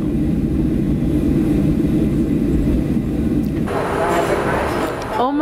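Airplane cabin noise after landing gives a steady, loud, low engine drone that shifts to a thinner hiss partway through, ending with a brief rustle.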